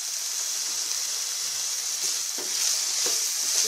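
Samosa filling sizzling in a pan as lemon juice is added: a steady, close hiss of frying with a few brief bursts of crackle, continuous and unbroken throughout.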